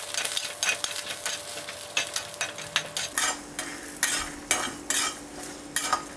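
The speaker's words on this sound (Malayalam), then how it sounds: "നല്ലതുപോലെ വറുത്തെടുക്കുക." Urad dal with curry leaves is roasted and stirred in a pan with a faint sizzle underneath. A spoon scrapes the pan in repeated, rhythmic strokes, which grow louder and sharper partway through.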